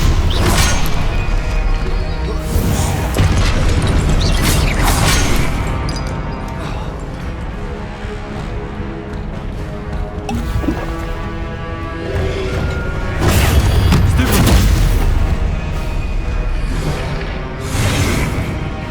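Spell combat in Hogwarts Legacy, with repeated magical blasts, crashes and whooshes bursting out in a dense, loud stream over a continuous game soundscape, with the strongest bursts near the start and again in the second half.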